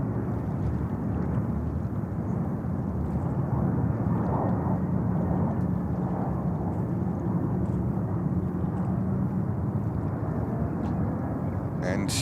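A Boeing 777-300 airliner at JFK airport in New York, bound for Tokyo Haneda, gives a steady, loud jet roar that holds for the whole stretch, with a faint voice under it.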